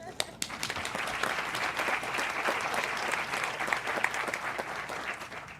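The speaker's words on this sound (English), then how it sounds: "I'd like you to clap for yourselves." A ground-breaking ceremony audience applauds itself with dense, steady clapping that holds through the whole stretch. A few sharper claps stand out near the start.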